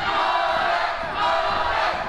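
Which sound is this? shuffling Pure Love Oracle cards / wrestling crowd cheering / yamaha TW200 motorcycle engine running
wrestling crowd cheering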